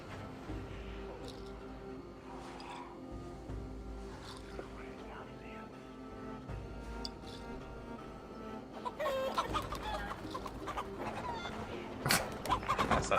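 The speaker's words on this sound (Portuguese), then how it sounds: "a galinha andando de lado aqui embaixo" Chickens cluck in Assassin's Creed Valhalla, with scattered calls under ongoing talk that grow busier and louder toward the end.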